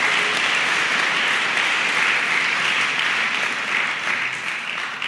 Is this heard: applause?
yes